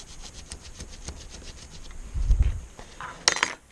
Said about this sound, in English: we'll just hit her up with the Scotch-Brite here